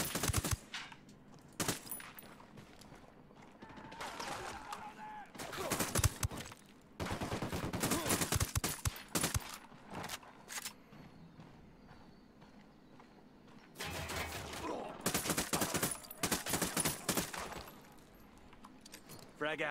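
Bursts of gunfire from the video game Ghost Recon Wildlands come in several loud volleys separated by quieter stretches, some rapid like automatic fire.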